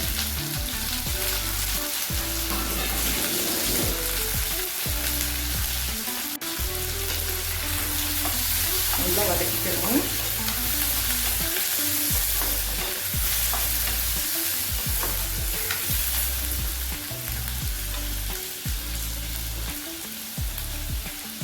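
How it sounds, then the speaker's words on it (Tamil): Chopped tomato and garlic sauté in a hot pan for sundakkai vathakuzhambu, a steady close sizzle broken by repeated scraping stirs of a spatula, with no talking. "வதங்கட்டும்"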